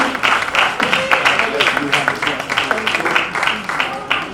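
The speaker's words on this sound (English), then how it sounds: "one more round of applause for our 2020 Spirit Award winners" An audience at a 2020 MLK Jr. celebration applauds Spirit Award winners at an award ceremony, a close, sustained burst of hand clapping with uneven pulses throughout.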